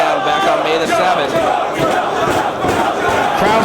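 A wrestling crowd at a Ring of Honor-style indoor event roars steadily in support of Samoa Joe during his match with Homicide, a dense, loud wall of cheering and chanting with no gaps throughout.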